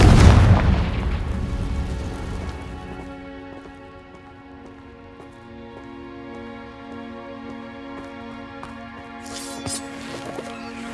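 A Confringo fire spell cast in Hogwarts Legacy, a loud booming blast at the start that decays into a long ringing magical shimmer with crackling rain-like patter, with a brief sparkling burst near the end.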